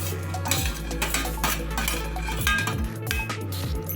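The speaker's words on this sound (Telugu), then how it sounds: "ఇవన్నీ బాగా మిక్స్ చేసుకొని బియ్యం పిండి వేసుకోవాలి." A spoon stirs and scrapes chopped onions, carrots and grated ginger together in a bowl for rava dosa batter, producing steady clinks and metallic scraping with a constant low hum behind, and no talking.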